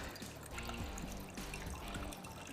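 About two cups of water pouring into a pan in a kitchen, a steady close trickling and splashing that runs throughout with no talk.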